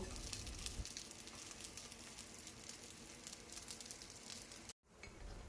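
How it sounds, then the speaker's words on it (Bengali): Potato, corn and cheese balls sizzle steadily in hot oil as they are turned over in the pan, with a few soft clinks of a utensil and a brief cut near the end. "উলট পালট করে ভালোভাবে ভেজে নেব।"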